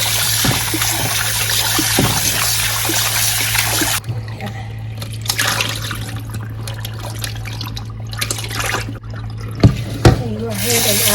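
Water runs from a tap over gizzards being rinsed, a steady broad splashing that holds for about four seconds, then eases into softer trickles and clinks with faint talk in the background.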